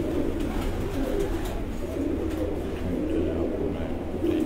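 Breeder pigeons on a rooftop coo in a low, continuous, overlapping murmur, fairly close and steady throughout.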